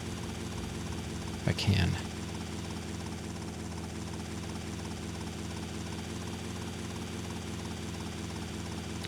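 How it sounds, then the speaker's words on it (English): A helicopter drones steadily in GTA Vice City on PS2, a constant rotor hum running throughout with a brief louder thump near the start as someone speaks over it. "Can I fit the helicopter here?"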